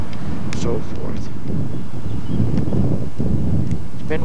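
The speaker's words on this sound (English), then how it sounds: "It's been windy up here" Gusty wind buffets a microphone outdoors at about 7,500 feet near Sedona, Arizona. Low rumbling bursts come and go, with faint, brief voices in the background.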